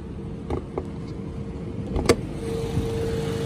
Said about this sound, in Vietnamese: đây máy em đang nổ máy nhá nó phải nói là cực kỳ êm luôn đấy ạ